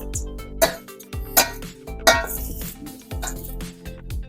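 Salad being tossed with avocado oil in a bowl, giving a series of close clinks and scraping clatter of utensils against the dish, with a few sharper knocks spread through the mix.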